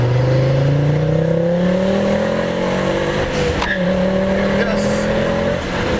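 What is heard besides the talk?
tuned Ford ST car engine accelerating while driving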